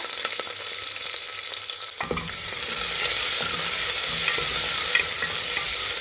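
Chopped onion dropped into hot oil already frying urad dal and dried chillies for a bottle gourd and lentil curry. A quieter crackle jumps into a loud, steady sizzle, with scraping stirs close by.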